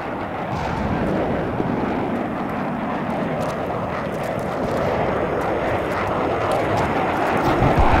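A fighter jet in the ArmA III video game roars overhead as a steady, loud, broadband engine rush lasting several seconds, swelling slightly toward the end.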